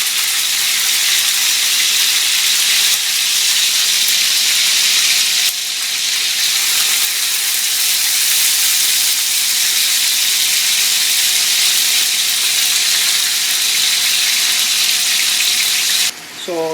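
Marinated pork liver frying in a pan over low heat, a steady loud hiss and sizzle that runs without pause throughout.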